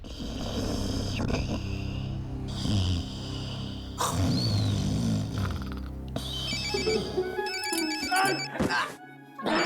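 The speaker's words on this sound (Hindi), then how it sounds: "तेरा फोन बज रहा है" A phone ringtone plays loudly and repeatedly, a melodic electronic tune with thuds and rustling around it, with no talk.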